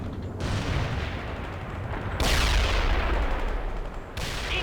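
Shelling and gunfire rage in World in Conflict: loud rolling booms and crackling shots form a dense, sustained barrage that swells in the middle, with sudden bright bursts cutting in twice.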